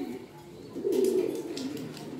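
Pigeons in a loft give a short burst of soft, low cooing close by, rising briefly and then easing off into quiet rustling.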